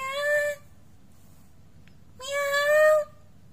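A cat gives two loud, drawn-out meows nearby, separated by a quiet pause of about one and a half seconds, with the second call longer than the first.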